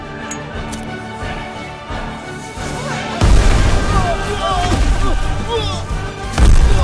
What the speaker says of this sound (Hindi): बी को पटाखों की आवाज क्यों नहीं आ रही है?